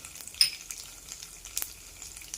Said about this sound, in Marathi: मोहरीचा तडका तयार झालाय, जिरं टाकून घ्यायची। त्यासोबतच अर्धा चमचा उडदाची डाळ घालायची यामध्ये।